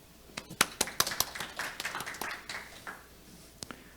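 Scattered hand claps from a seminar audience on Arctic shipping routes welcoming the session chair, a handful of sharp separate claps building into a short, thin patter that fades out.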